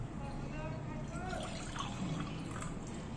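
Warm water poured into a mixture for a homemade cough remedy, a soft trickle and drip running faintly and steadily under background noise.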